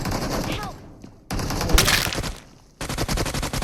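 Gunfire in a mobile shooting game comes in bursts of rapid shots, loud and close, broken by brief quieter gaps while excited voices talk over it.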